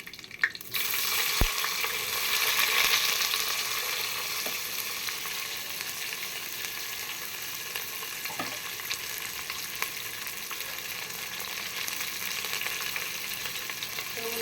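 Sliced onions frying in oil with whole biryani spices for Madurai chicken biryani, a loud continuous close sizzle with occasional utensil knocks.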